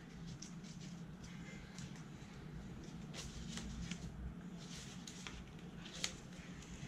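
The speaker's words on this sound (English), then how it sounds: "Now fold on this crease." Paper being creased and folded for an origami remote holder, a close soft crinkling and rustling with a few sharper crackles of the sheet pressing flat.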